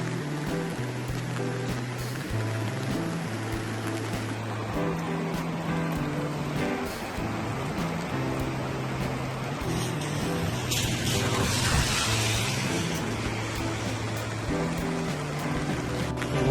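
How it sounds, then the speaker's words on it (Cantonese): Rain falls outdoors at Arashiyama near Togetsukyo Bridge in Kyoto, a steady close wash of hiss that lasts throughout, with a low droning hum running underneath. "都唔係好慢啊，落雨啊，"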